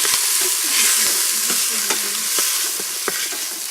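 Chili spices and pepper are stirred in a hot Instant Pot, a close sizzling hiss with repeated scraping strokes of the spoon against the pot, no talk over it.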